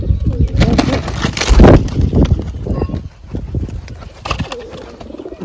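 Wild pigeons coo close by in soft, throaty bursts, mixed with fluttering and shuffling noises.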